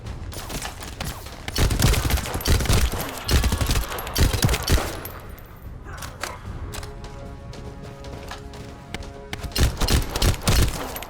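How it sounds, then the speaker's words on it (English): Gunfire from the video game The First Descendant: dense bursts of rapid automatic shots and layered volleys. The fire runs loud and nearly nonstop, thins briefly partway through, then returns with heavy bursts. "who's shooting at me?"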